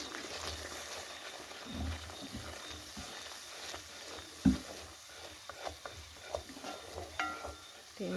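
Shiro is stirred in a pan on a stove, giving quiet, irregular scraping and soft spoon knocks over a faint, steady sizzle, with one sharper clack partway through.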